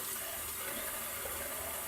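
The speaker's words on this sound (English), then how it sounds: "And I'm just going to take a bit more water." Water runs from a tap during a traditional wet shave, a steady hissing splash into a sink that continues evenly for the whole short stretch with no talk over it.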